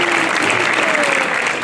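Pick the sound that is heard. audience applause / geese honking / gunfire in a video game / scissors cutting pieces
audience applause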